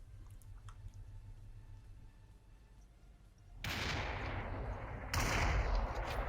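Gunfire in the VR battle royale game Population: ONE, two loud sharp shot bursts arriving after a quiet stretch of low ambient rumble, the second heavier and more booming.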